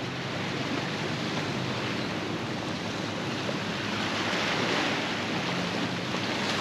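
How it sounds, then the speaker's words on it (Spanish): Atlantic Ocean surf at an open beach rolls in as a constant, dense roar of breaking waves with a slight swell in loudness toward the end, mixed with some wind buffeting the microphone. "está lindo bien el mar aquí"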